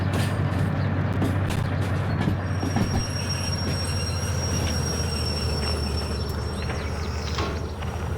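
A light-engine locomotive reversing through a siding in the Derail Valley train simulator game as its brakes are applied, with high metallic wheel squeals over a loud, continuous rumble and no talking.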